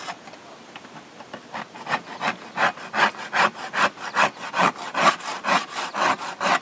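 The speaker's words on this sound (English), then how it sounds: "you can see me scrape the black off. It comes right off." Burnt black residue being scraped off a grill, a rhythmic series of rasping back-and-forth strokes, close and steady, growing slightly louder and more regular as it goes.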